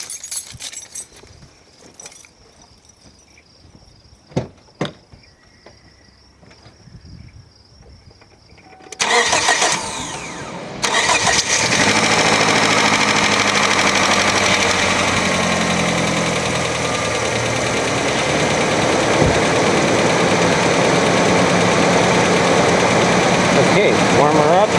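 A 2001 Kia Sportage engine cranks briefly after some quiet clicks and handling noises, then catches and settles into a loud, steady idle that runs on close by with a slight rough knock.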